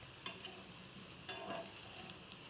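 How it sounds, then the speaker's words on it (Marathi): Crispy onion bhajis fry in hot oil with a soft, steady sizzle, faint and close, punctuated by a few sharp clinks and stirring scrapes. "तळून घेऊया।"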